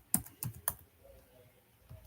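Computer keyboard typing while writing Python code, a few sharp separate keystrokes in a quick burst followed by a pause and one last tap, close and fairly quiet.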